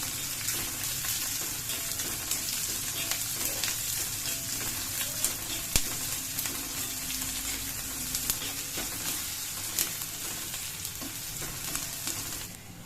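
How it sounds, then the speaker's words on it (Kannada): Cumin, mustard seeds, curry leaves and onion frying in a pan for capsicum curry, a steady close sizzle with occasional stirring scrapes and no talking. "ಕರಿಬೇವಿನ ಸೊಪ್ಪು ಈರುಳ್ಳಿನ ಹಾಕೊಂಡ್ಬಿಡ್ತೀನಿ ಫ್ರೈ ಮಾಡ್ತೀವಿ"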